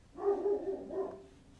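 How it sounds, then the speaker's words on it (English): A big dog out back barks and whines in a muffled, drawn-out run of a few vocalizations, heard from indoors at moderate distance, wanting to be let in. "I got a big old dog outside, out back. He's yelling at me because he wants me to bring him in already."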